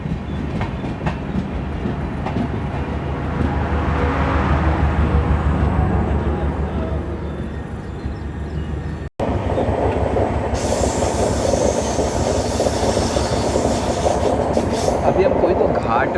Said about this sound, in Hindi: तो घाट सेक्शन टाइप है जहाँ पे हमारी ट्रेन कर्व लेते हुए जा रही है